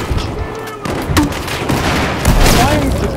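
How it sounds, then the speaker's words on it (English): Fifty-caliber gunfire in Battlefield 4: dense, loud, close bursts of heavy shots with booming impacts packed into a noisy battle din, while a voice speaks over it. "Firing 50 caliber bullets in there."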